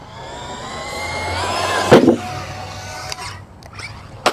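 Arrma Vorteks 223s RC car launching off a jump, its electric motor whining and rising in pitch, then a sharp impact thud at the landing followed by clattering and scraping; close and fairly loud, with no talk.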